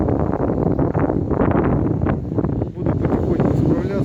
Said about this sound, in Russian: Дождь вместе с ветром летит прямо на телефон